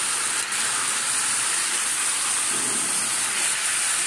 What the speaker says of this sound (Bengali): এটাকে তেলে ভালো করে ভাজতে হবে। যে তেলে সুন্দর করে ভেজে নিচ্ছি আমি